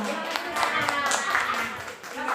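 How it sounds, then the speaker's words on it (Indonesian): A group claps at a classroom workshop on positive school culture, giving a short run of uneven hand claps at moderate distance, mixed with people talking over it. "Kelompok 1 tadi lupa tepuk tangan."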